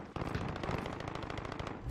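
Rapid automatic gunfire in the video game Warzone, a dense burst of closely spaced shots rattling continuously for about two seconds, loud and near, with no talking.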